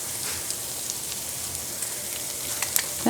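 Ham and eggs frying on a stovetop with a soft, steady crackling sizzle and a few small pops and scrapes near the end, fairly quiet, with no one speaking.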